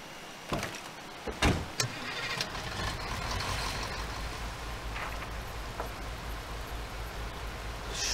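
A car driven in the video game Far Cry 2, a low engine rumble and road noise that builds steadily after a few sharp knocks and clunks at the start, fairly close with no talking.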